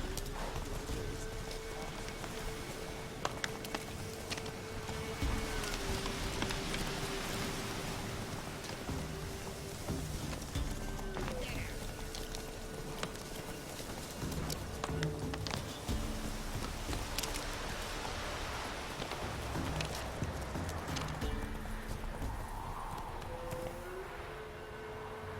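A horse gallops in The Witcher 3 on the Switch, hooves clip-clopping in a quick, steady rhythm under rain falling on the ground, with a soft music drone running behind it.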